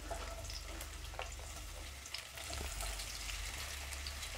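Three medium onions, sliced into wedges, dropped into well-heated oil for bhindi fry, giving a steady soft sizzle with occasional crackles and light stirring, close but fairly quiet over a low hum, no voices.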